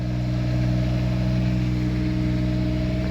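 A Thermo King Precedent refrigeration unit's engine runs steadily after priming, giving a loud, close, constant mechanical drone with a strong low hum and no breaks or changes in speed.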